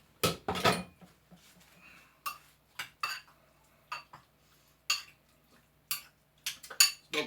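Metal utensil scraping and clinking in a cooking pot while chicken biryani is stirred together, a series of short sharp clatters spaced irregularly, close and moderately loud with no talking.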